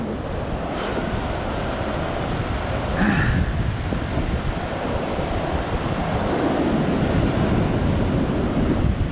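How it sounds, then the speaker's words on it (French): Sea waves break and wash continuously along the Brittany coast after a storm, a loud, steady surf roar with gusts of wind buffeting the microphone throughout. "Il y a quand même la mer qui touche les vagues"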